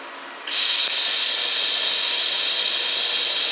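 A MIG welding torch tacks a rust repair on a Holden HK HT HG front guard, a loud steady hiss and crackle that starts suddenly and holds, very close, with no talk.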